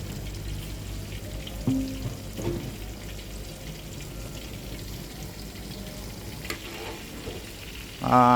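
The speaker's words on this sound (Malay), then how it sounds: "Kita goreng dah ke garing lah, sedap lah makan pan ni." Steady sizzling and crackling of cornflour-coated chicken tenders frying in hot oil, close and continuous, with a brief clatter near the end.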